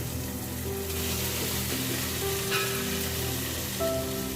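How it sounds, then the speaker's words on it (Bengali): Fried potatoes and pointed gourd sizzle in spiced masala in a pan. The frying hiss is steady and close, with faint clinks and a low background hum, and no speech. "এবার ভেজে রাখা আলু আর পটল দিয়ে দিব"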